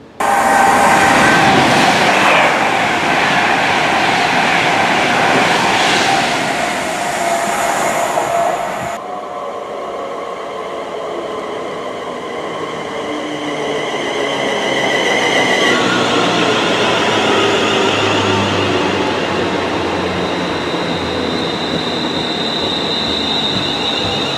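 A train rolls through Winsford Station beneath the A54 road bridge on the North Staffordshire Railway, loud and close, with wheel squeal and rumbling rail noise that shifts in pitch as the coaches pass.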